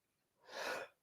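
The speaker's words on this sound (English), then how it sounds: "Can't stop sneezing." A single sneeze from someone commentating a live darts qualifying stream, a sharp burst rising after a quiet moment and fading within the second, close and alone with no talk.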